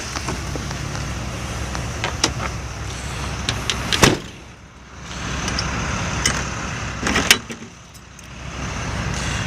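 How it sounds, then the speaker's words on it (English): A pickup truck's door opens and slams shut twice in snowy Groveport, sharp thuds over a steady idling engine and road hum. "now we'll get out of this truck here."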